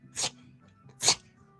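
Two sharp little sneezes from a small dog, about a second apart, close and clear with quiet between them.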